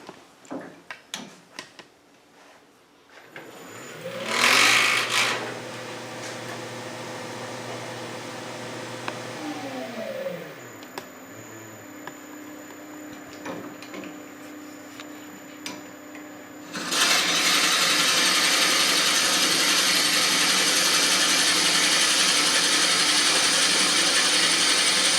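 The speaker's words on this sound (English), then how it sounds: "And I'm gonna drill it that deep." A wood lathe drills into a turned wooden piece behind the head: a steady motor whine with shifting tones, then a louder, continuous broadband cutting hiss through the final stretch.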